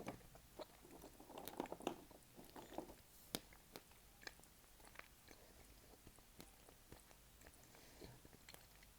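Crunchy food being bitten and chewed close up, a series of crisp crackling bites and scattered clicks, busier at first and then thinning into quieter intermittent crunches, with no talking.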